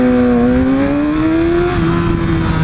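A manual car pulls away from a standstill as the clutch engages, its engine note climbing steadily in pitch, loud and close, with no talk over it.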